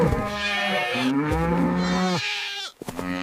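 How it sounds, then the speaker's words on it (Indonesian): Cattle moo loudly and close on a street crowded with cows and goats ahead of the Qurban sacrifice, several long drawn-out calls in quick succession, with no talking. "di jalan sudah banyak sapi dan kambing"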